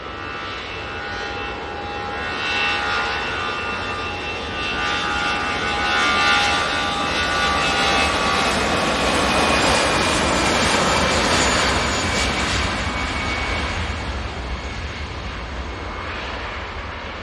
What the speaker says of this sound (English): this Aer Lingus is now rolling